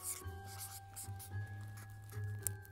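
A pen scratches across a notebook in a video game, making soft repeated rubbing strokes over a low steady hum. The sound is quiet and close, with no voices.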